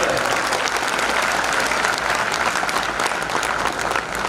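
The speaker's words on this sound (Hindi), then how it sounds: "जोर से ताली बजा के सर का स्वागत करें" An auditorium audience at a college techfest prize distribution claps loudly and steadily to welcome a guest, a dense continuous wash of applause from many hands.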